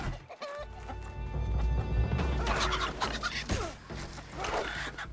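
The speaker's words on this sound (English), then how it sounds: "these chickens I feel like keep on spawning in here." Chickens cluck and squawk repeatedly in RuneScape Dragonwilds, several birds at close range, with a busy jumble of game effects and clatter layered around the calls.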